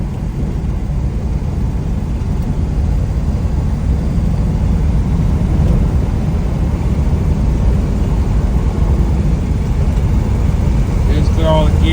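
Restored 1963 fuel-injected split-window coupe driving, a steady loud engine drone heard from inside with constant road rumble and no clear gear-change breaks.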